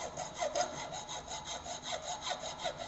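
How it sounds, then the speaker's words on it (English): Rhythmic rasping strokes of a bastard double-cut flat file cross filing a metal workpiece in a workshop fitting shop, steady back-and-forth passes repeating about every half second, close and clear with no talking. "This is bastard double cut flat file. This type of filing is known as cross filing."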